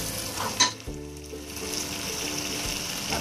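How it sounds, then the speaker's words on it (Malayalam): Curry masala with fresh coriander and mint leaves being stirred in a pan for Malabar chicken dum biryani: a close, continuous sizzle with a sharp utensil scrape near the start and soft stirring after, no voices. "അത്രയും മല്ലിയിലയും കൂടെ ചേർത്ത് കൊടുത്ത് നന്നായിട്ടൊന്ന് മിക്സ് ചെയ്യാം"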